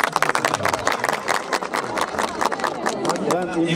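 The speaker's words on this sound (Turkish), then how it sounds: "Kendisini alkışlıyoruz." Audience applause at a Turkish civil wedding ceremony, a dense burst of hand claps from a crowded room with voices mixed in, loud and steady throughout.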